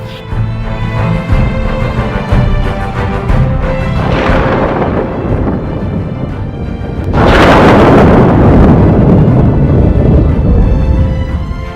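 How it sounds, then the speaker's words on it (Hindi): A concrete building, already cracked by cyclone rain, collapses into rubble with a deep rumbling roar that swells, eases and then surges again in a heavy crashing burst. "महज 5 सेकंड के अंदर ही कंक्रीट की ठोस इमारत देखते ही देखते मलबे में बदल गई"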